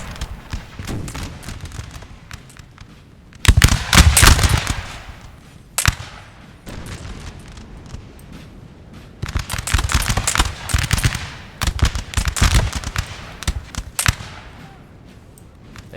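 Musket volleys crackle across a Napoleon Total War video game battle at Fort St George in the War of 1812, with bursts of rapid overlapping shots separated by quieter stretches of scattered, more distant firing.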